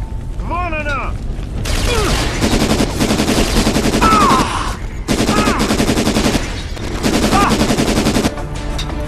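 Gunfire from a three-round burst weapon in the video game Syphon Filter: Logan's Shadow, loud repeated bursts of rapid shots in several long volleys with mechanical clatter, plus game voices and effects between them.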